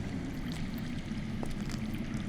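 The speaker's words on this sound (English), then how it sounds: "That's water. I hear water. From underground." Water flows underground in Telltale's Game of Thrones, a steady low rushing and gurgling murmur, continuous and moderately loud with no talking.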